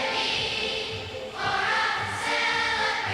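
A massive choir of about 7,000 children sings the theme song for Expo 86, the World Exposition in Vancouver, inside a huge stadium; the sustained voices come across as a loud, washed-out blend with reverberant crowd noise and no clear talk.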